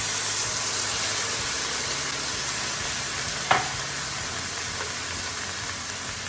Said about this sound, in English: Once the beef is brown, reduce the temperature on the skillet and add 2 cups of beef broth.